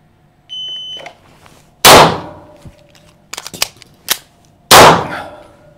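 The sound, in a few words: Stoeger 8000 FT airsoft pistol shots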